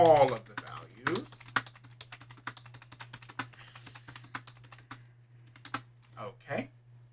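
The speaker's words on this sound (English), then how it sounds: "And I'm going to go ahead and type those in." TI-Nspire calculator keypad being tapped as values go in, scattered close key clicks at an uneven pace over a steady low hum, with brief speech-like sounds at the start and near the end.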